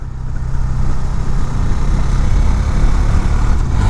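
A 2019 Husqvarna Svartpilen 401, a 400 cc motorcycle, pulls hard at high revs while riding, with a loud, steady buzzing drone and road and wind rush and no talk over it.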